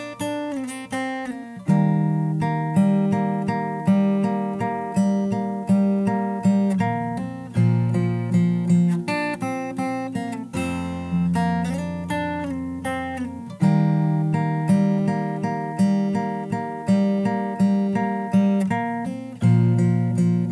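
A plucked fingerstyle guitar chorus riff from a song repeats over and over in a bright, steady groove, with a lower bass-note variation midway before returning.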